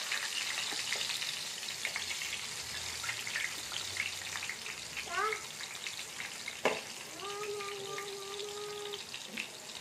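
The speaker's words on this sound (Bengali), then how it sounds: "এবার একটা একটা করে বেগুন ভেজে নেবো দিয়ে, কড়াতে দিয়ে।" Eggplant slices fry in hot oil in a wok, a steady broad sizzle running throughout with occasional clinks and brief tonal kitchen noises over it.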